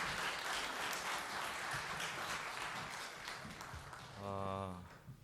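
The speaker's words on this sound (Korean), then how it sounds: "박수를 드리겠습니다." Congregation applauding during a Good Friday church service, a soft, diffuse patter of clapping that fades, followed by a brief tonal sound near the end.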